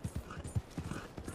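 Horse hooves clip-clopping on the ground in Red Dead Redemption 2, a quick, even rhythm of about a dozen soft, close hoofbeats.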